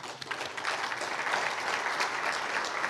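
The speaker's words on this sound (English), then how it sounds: "deserves a clap of hands" A conference audience at an evening networking cocktail claps for a contributor, a soft, even wash of applause holding for a few seconds without speech.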